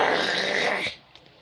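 A person imitating a growling voice: one rough, throaty growl lasting about a second, close and fairly loud, then fading into near silence.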